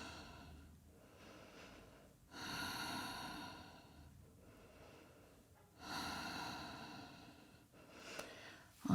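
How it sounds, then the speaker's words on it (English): Ujjayi breathing during a yoga practice at home: slow, close, audible breaths with long hissing inhales and exhales rising and falling in a steady rhythm, with no talk. "Keep the Ujjayi breath going."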